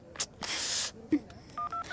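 Short electronic keypad tones sound as a number is dialed, with a couple of button clicks and a brief hiss in between.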